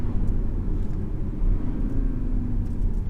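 Engine of a 2018 BMW X4 20d SUV while driving, a low steady rumble with road and tyre noise from inside the cabin.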